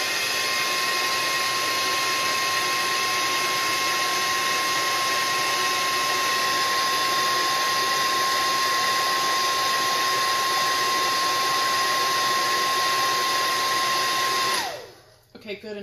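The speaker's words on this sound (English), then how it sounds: "So here we go with the hairdryer." A hair dryer blows steadily and loudly up close for about fifteen seconds, drying paint on the eyes of an American Girl Bitty Baby doll, then cuts off abruptly.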